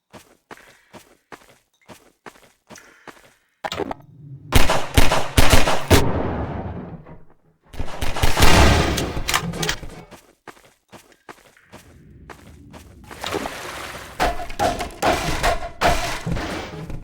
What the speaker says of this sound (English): distant combat might be small arms fire